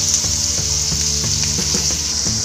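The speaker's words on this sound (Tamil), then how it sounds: "இப்போ வெங்காயம் பதங்கிட்டே இருக்குது" Onions sizzle steadily in hot oil in a pan for an egg dish, a continuous bright hiss with occasional soft clunks and scrapes of stirring, close and fairly loud with no talking.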